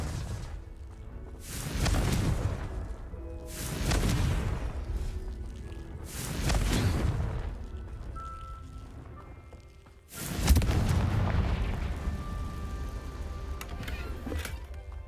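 The Confringo blasting spell in Hogwarts Legacy sets off four heavy explosive bursts, each followed by a fading rumble, with roughly two-second gaps before the last and loudest one.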